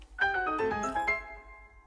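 Bat phone in Batman: Arkham Knight rings with a bright electronic chime of stacked tones, loud and close, then fades out over about two seconds with no talk.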